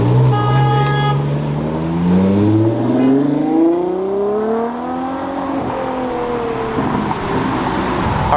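A Ferrari pulls away onto the street after a Ferrari festival in Houston, its engine revving up in rising, sweeping pitch as it accelerates away, loud and close, with a short horn toot at the start.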